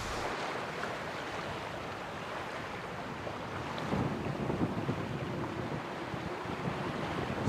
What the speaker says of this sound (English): Pretty gusty. The wind goes between 14 and 20 knots true.